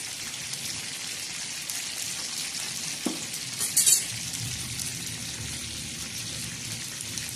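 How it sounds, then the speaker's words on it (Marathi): A steady, fine crackling sizzle of marinated chicken tikka frying on a hot griddle, with a couple of soft knocks midway. "छान बघा कसं तळत आहे"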